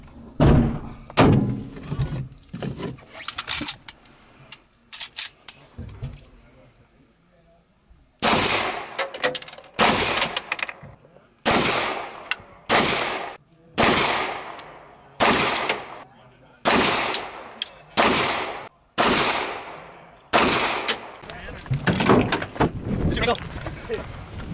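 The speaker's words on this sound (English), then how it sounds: "She's going to take out some targets with her pistol from the inside, climb up to the top, go prone," Gunshots ring out at an AK-only shooting match, starting with a quick scatter of shots and then a slow, regular string of about a dozen sharp, loud reports with ringing steel hits, each followed by a short decay.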